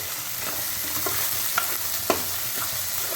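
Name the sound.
stirring soaked chana dal in a pan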